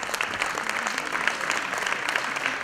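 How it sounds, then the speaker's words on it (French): Audience applauding at a film screening event, dense continuous clapping from a crowd, steady and fairly loud throughout with no voices over it. "Sous vos applaudissements."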